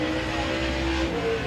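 A race car runs a qualifying lap in the SAS Racing Series at Thunderhill Raceway, making a loud, continuous engine drone that holds steady throughout with no talking.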